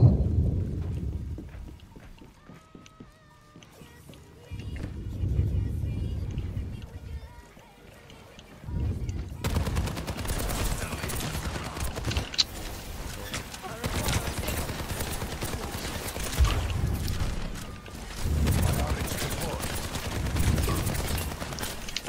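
Rapid automatic gunfire from Soldier 76's rifle in an Overwatch 2 match, continuous bursts and a dense barrage of shots mixed with game effects and a voice talking over the action.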